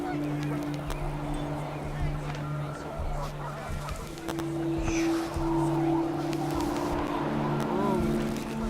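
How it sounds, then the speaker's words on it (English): Panicked geese in the video game What Remains of Edith Finch honk in scattered bursts over a steady mechanical hum, with some faint voices in the background. "Wind picked up, and panicked geese appeared and quickly went."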